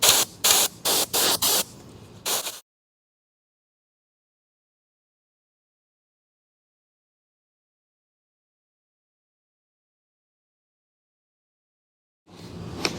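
Shop vac filters blown out with compressed air: several sharp, loud, close hissing bursts in quick succession, then a long silence before another hiss starts at the end.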